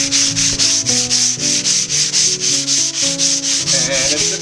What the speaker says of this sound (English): Now that these concrete edges have dried, it's time to sand it.